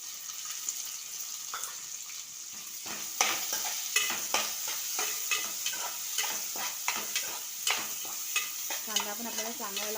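Onions sizzling and frying in hot oil in a pot while being stirred, with a steady close hiss and repeated scraping stir strokes, no talking.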